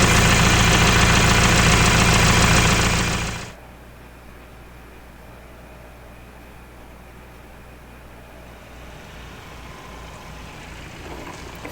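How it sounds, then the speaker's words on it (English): A Mahindra Roxor engine idles steadily to warm up, loud and close for about three seconds before the sound drops sharply to a low, even hum for the rest of the clip. "I just let it idle so that it warms up a little bit"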